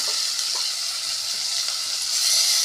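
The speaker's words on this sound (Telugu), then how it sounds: "ఆనియన్స్ వేగినాయండి టమాటా ముక్కలు వేసుకుందాం" Tomato pieces going into sizzling fried onions for a Telugu taro-root tamarind curry, a steady close hiss of frying that holds evenly throughout with no voices.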